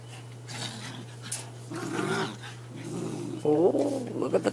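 Dogs growl and grumble while playing and chewing on a hard plastic swimming pool, the sound close and continuous with rising snarls toward the end, under a person's voice.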